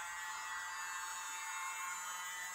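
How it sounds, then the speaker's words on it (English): A small leaf blower, used to pop air bubbles in poured acrylic paint, whirs steadily with a high, airy motor hum, constant and fairly quiet throughout. "And we have our little leaf blower."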